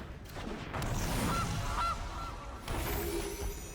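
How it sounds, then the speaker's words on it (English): A goose token from MTG Arena lets out a couple of short, nasal honks close up over a busy game soundscape, with no speech. "Goose Goose."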